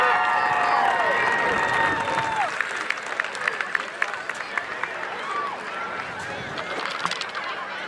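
An audience applauds at a high school football game's homecoming court presentation, scattered claps building to a steady patter, with crowd voices and tonal whoops or horns at the start.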